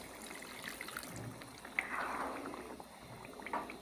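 Water saved from boiling chana dal is poured into a pot of pumpkin and lentil curry, a soft splashing trickle that swells briefly near the middle, with no talking.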